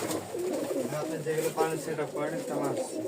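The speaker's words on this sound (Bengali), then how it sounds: "অনেক ভালো ভালো কবুতর থাকবে" Rajshahi Giribaz and other fancy pigeons coo repeatedly in soft, low, throaty phrases, several overlapping close by, with faint voices in the background.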